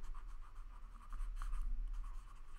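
Pen scratching on paper while working through a maths proof in a classroom lesson, a faint continuous scribbling with small strokes and pauses, close and quiet with no talk over it.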